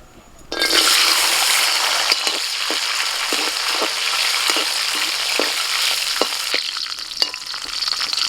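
Cashews and raisins dropped into hot white oil for pulao burst into loud, close sizzling that holds steady, broken by periodic scraping stirs of a spatula in the pan.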